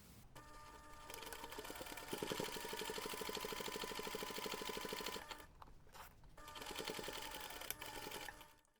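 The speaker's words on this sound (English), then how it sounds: "And then we're going to top stitch along that finished seam" A sewing machine topstitches along a finished seam on a zipper pouch, running in a steady rapid mechanical chatter with a brief pause near the end before resuming, close and fairly loud.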